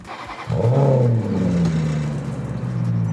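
A Maserati engine cranks and catches with a sharp bark, then settles into a deep, rumbling idle that hums steadily close by.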